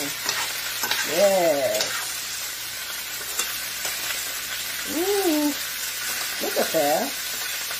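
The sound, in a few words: halibut sizzling while basted in butter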